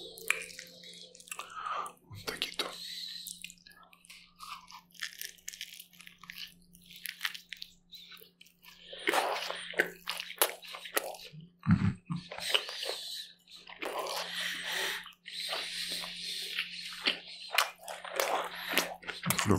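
Close-up chewing of baked potato and chicken breast, soft wet bites and mastication sounds in quiet bursts, with a low steady hum beneath and occasional soft voice.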